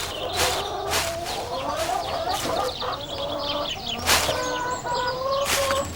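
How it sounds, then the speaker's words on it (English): Hens cluck repeatedly in a farmyard, with overlapping calls and bursts of fowl chatter that rise and fall, some calls close and others farther off, plus brief rustles and a flurry of wingbeats. "Just keep a lookout for our silly hens."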